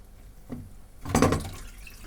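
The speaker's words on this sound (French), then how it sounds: "Là je vais couler un peu d'eau. Froide de préférence." Cold tap water runs briefly from a faucet into a kitchen sink while pasta is being cooled. A short soft trickle comes first, then a louder, splashy gush of water close to the microphone.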